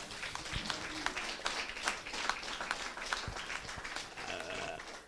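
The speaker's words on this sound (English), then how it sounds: "Doesn't he deserve a round of applause?" Congregation applauding a preacher at a church gathering in Sharjah, a soft, distant round of clapping from a crowd, steady and faint throughout.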